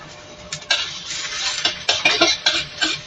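Food being sautéed in a pan with only a little cooking oil: faint sizzling with repeated scraping and stirring strokes, close by, and no one speaking.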